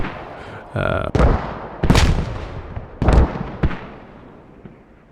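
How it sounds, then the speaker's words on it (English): Mortar rounds fire and land in the video game Squad, a series of four or five heavy booming blasts with a rumbling tail, loud and fairly close and spaced about a second apart. "CI's mortars are being counter-mortared, and I think they are down."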